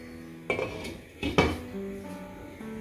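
A metal lid goes onto a pan of bitter gourd cooking with a little water, giving two close, sharp clanks of metal on metal in a quiet kitchen.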